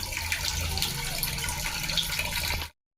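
Water running steadily from a kitchen tap while washing, a continuous close splashing hiss that stops abruptly near the end.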